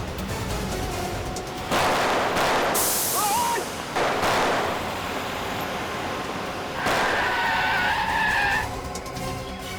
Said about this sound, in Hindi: चला दे गाड़ी दोनों में।